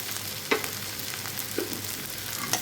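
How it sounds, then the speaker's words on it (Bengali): Raw banana and catla fish curry with salt, stirred in a frying pan, a soft constant sizzle with two or three scraping strokes of the spoon. "তারপরে একটু নেড়ে চেড়ে একটু লবণ দিয়ে দিলাম"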